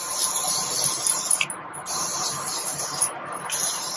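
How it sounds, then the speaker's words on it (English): Morphe Continuous Setting Mist sprayed onto a made-up face, a close, steady hissing mist that cuts off twice in short gaps before resuming. "So I'm just using the Morphe Continuous Setting Mist."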